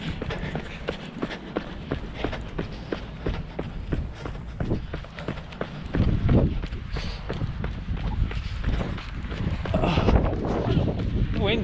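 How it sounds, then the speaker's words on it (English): Wind buffeting a microphone outdoors during a run, gusting roughly over steady footfalls and getting heavier in the second half. "Windy, isn't it?"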